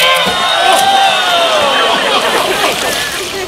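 A crowd at a timber show contest cheers and shouts, a broad roar sustained across a few seconds, close and loud with voices mixed in.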